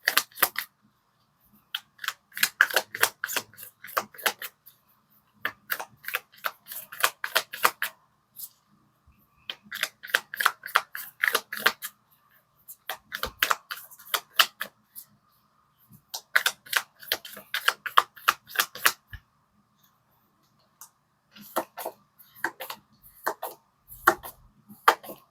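Tarot cards are shuffled and drawn in repeated crisp bursts of rapid flicking and slapping, each run lasting a couple of seconds and separated by short silences, close to the ear, with no talking.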